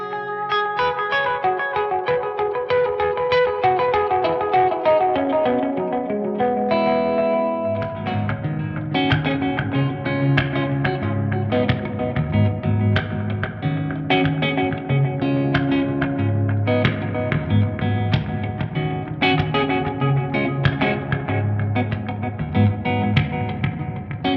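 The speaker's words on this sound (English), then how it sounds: "We've got the Mag Echo, which is a tape delay, and then the Hall, which is clearly Hall reverb." Guitar played through a Hotone XTOMP pedal patch of tape-style Mag Echo delay and hall reverb, sustained distorted chords and notes ringing loud and continuous with echoing repeats and a wide reverberant tail, no talking.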